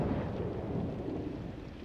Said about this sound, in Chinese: 下雨了是吗？